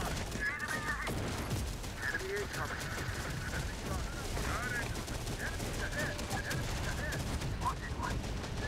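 Enemy artillery and machine-gun fire in the video game Terminator Dark Fate Defiance, dense continuous rattling bursts and distant booms throughout, with radio-like unit voices and alerts chirping over the battle.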